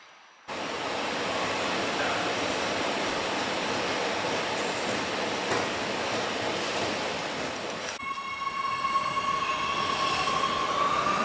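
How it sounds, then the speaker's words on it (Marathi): A train arrives at Kalbakken station in Oslo, Norway, with a steady loud rumble of wheels on rails, then a rising high-pitched brake squeal near the end as it slows. No one speaks. "जर आपण ट्रेननी येणार असू तर आपल्याला ह्या कालबाकेन रेल्वे स्टेशनला उतरायचं आहे."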